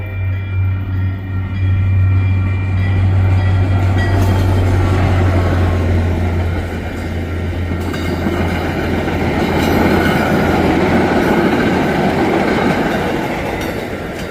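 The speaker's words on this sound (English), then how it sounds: "Here's a train for you." A train passes close by with a loud, sustained rumble and rhythmic clickety-clack of wheels on rails, plus a steady low drone, continuing throughout.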